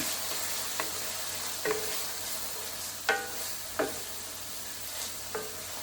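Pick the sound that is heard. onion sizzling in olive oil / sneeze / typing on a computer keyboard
onion sizzling in olive oil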